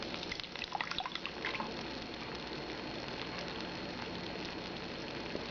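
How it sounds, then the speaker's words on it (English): Dry ice sits in water, giving off a steady close fizzing crackle with small dripping, bubbling pops, loudest early and then settling into an even hiss. "If we get up close, we can hear the sound of the dry ice. There's the water. It has a crackling sound."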